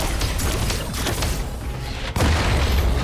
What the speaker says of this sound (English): Blue team's turret has been destroyed.